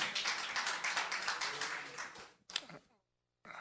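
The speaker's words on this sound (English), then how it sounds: "I guess I heard clapping" Clapping from attendees at a municipal study session meeting, a scattered burst of hands that fades out, followed by a brief pause before more sound resumes.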